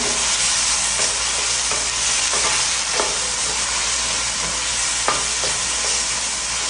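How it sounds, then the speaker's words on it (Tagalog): Chopped tomato sizzling loudly in a pan as it is mixed in, a dense continuous hiss broken by soft periodic scraping strokes of the stirring spoon, close and with no voices. "At ngayon i-add ko na itong hiniwa kong tomato. At i-mix ko siya."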